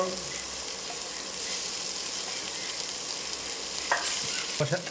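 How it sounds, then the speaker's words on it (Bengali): Small fish hit a pan of frying potato, eggplant and bitter gourd with chilli powder, giving a steady, close sizzle with stirring clatter and a few utensil knocks near the end. "কষানো হয়ে গেছে, মাছগুলো দিয়ে দিল"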